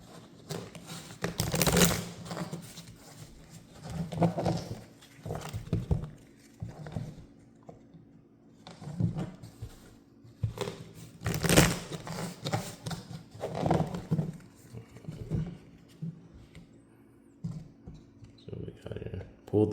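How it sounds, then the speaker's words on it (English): A deck of tarot cards is shuffled by hand, producing irregular bursts of soft riffling and tapping, close and fairly quiet, with pauses between bursts. "Now I'll go ahead and just shuffle it as well."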